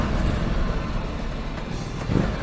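A 2016 Ducati Multistrada 1200 Enduro motorcycle engine runs with a low, throbbing rumble under wind noise, steady with a slight swell near the end.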